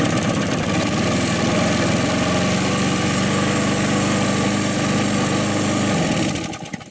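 A lawn mower engine, just repaired after a sheared flywheel key, runs at a steady, loud idle close by for several seconds and then cuts off at the end.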